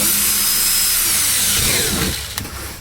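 A power drill bores a hole through a plastic kayak hull, a loud steady high whine close to the microphone that winds down and slows near the end as the bit breaks through.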